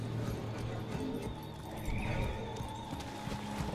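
A horse-like Kaithe mount in the video game Warframe neighs and whinnies over a dense game soundscape, with clip-clop hoofbeats underneath, loud and close throughout.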